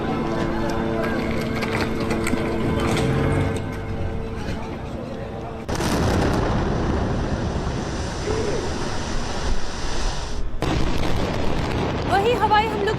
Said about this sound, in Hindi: बेरूत जहां पर आईडीएफ ने हवाई हमला किया।